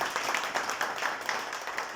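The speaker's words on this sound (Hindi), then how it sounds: "तालियां बजा दीजिए प्लीज" Guests at a Holi gathering give brief applause, a thick flurry of many hands clapping close and steady with no talking over it.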